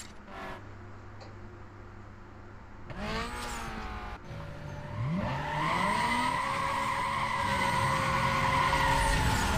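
Engine roar and screeching tire skids from a racing video game played on a PC without a graphics card, rising into a sustained loud revving drone after a few brief bursts.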